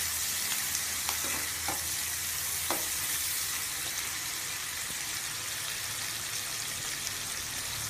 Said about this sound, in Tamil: நல்லா வெங்காயம் ப்ரௌன் கலர் ஆகிற வரைக்கும் நல்லா வதக்கிக்கணும்